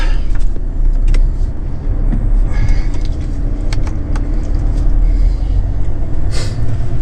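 A car drives along a road in a steady, loud, low rumble of engine and tyre noise, with scattered small rattles and ticks inside the cabin and no talking.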